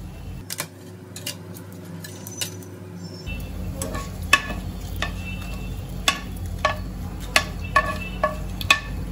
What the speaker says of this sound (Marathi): खडे मसाले चांगले मी तेलामध्ये परतून घेतेय।